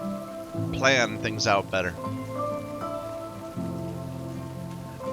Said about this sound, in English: thank God we've only had rainfall